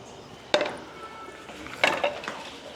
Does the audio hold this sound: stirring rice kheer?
yes